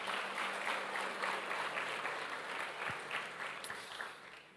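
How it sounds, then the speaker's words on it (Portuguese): A church congregation at a conference applauds with continuous, dense clapping that holds steady and then slowly fades over several seconds, heard from within the crowd with no clear speech. "Aplauda o Senhor."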